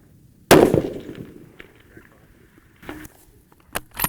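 A Thompson/Center Compass bolt-action rifle in .308 fires a single loud shot at a shooting range, its sharp crack trailing into a long fading echo, followed by a few faint handling clicks.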